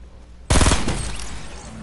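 A single loud pump shotgun blast from Fortnite cracks out after a brief quiet stretch, then trails off in a long, gradually fading rumble.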